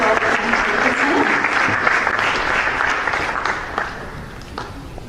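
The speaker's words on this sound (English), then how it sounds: "Can we all give them a round of applause for Dr. Allen and Dr. Gold?" A conference audience at a sport management summit applauds panelists in a sustained, dense wash of clapping that stays loud for about five seconds and then eases slightly toward the end.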